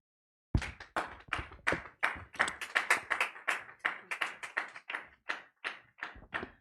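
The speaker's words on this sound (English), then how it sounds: "keep clapping for a little bit more" A small audience after a financial intelligence seminar speech claps in a burst of applause, the sharp hand claps close and distinct, swelling then thinning out over several seconds.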